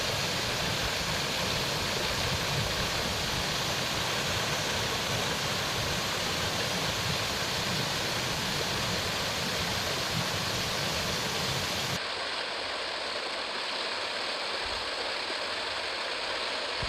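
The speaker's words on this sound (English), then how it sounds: "Waterfall cascades gracefully, its crystal clear waters shining in the sunlight." Waterfall cascading beside lush green trees, heard as a loud, continuous broadband roar of falling water that stays constant and then turns slightly duller and quieter near the end.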